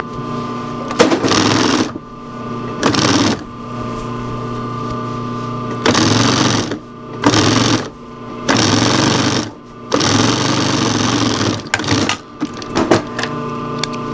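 A sewing machine stitches the turned-in cuff of a wool blanket shirt in a string of short start-and-stop bursts, a loud close rhythmic chatter broken by brief pauses.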